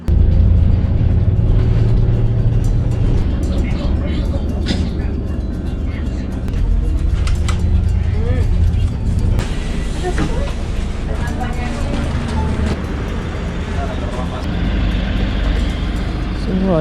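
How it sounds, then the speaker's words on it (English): A city bus ride through snowy Oulu, Finland: a steady, heavy engine rumble and road noise fill the cabin, with rattles, shifting gear tones and clunks throughout. "So I have to take the bus now."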